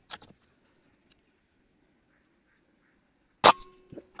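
Air rifle firing a pellet: one sharp, loud crack close by near the end of a mostly quiet stretch, with a faint click at the start and a steady high insect-like whine running throughout.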